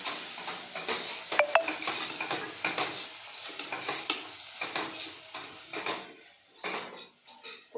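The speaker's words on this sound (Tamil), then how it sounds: "மிளகாத்தூளையும் போட்டு ஒரு வணக்கிட்டு அப்புறம் மூடி வச்சிடலாங்க" Tomatoes sautéing with chili powder in a pan for Coimbatore-style arisi paruppu sadham: a spoon stirs and scrapes against the metal in irregular clinks over a soft, steady sizzle, close and moderately quiet, with no talking.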